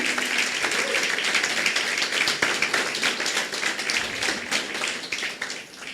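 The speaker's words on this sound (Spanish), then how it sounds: "Dale ese fuerte aplauso al Señor." Church congregation giving the Lord a strong round of applause, a dense, steady wash of many hands clapping throughout, loud and close, tapering slightly at the end.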